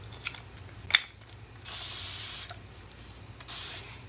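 A fine mister bottle sprays water onto soft-bristled paint brushes during chalk-paint blending, giving two separate, even hissing bursts after a small click.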